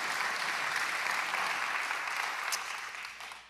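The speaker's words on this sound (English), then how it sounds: "You can clap. We clap here at Grace." Sustained audience applause, dense and even, heard from a distance before fading out at the end.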